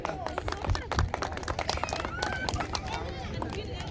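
A crowd at a football tournament prize ceremony claps in scattered, uneven bursts beneath an announcer's loud amplified voice and general crowd chatter.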